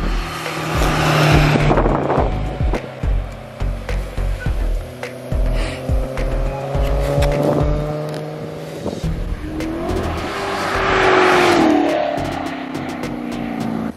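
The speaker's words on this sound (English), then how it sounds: "you can actually hear like the whooshes from the supercharger" A supercharged BMW M3 accelerates hard, its exhaust roaring through rising gear pulls with rhythmic pulsing and a supercharger whoosh, loud and close throughout.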